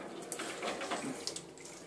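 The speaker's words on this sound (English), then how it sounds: "Always be careful with a leaky chiller." Water leaks from a wort chiller during home brewing of an IPA, a faint continuous splashing trickle with small spattering bursts.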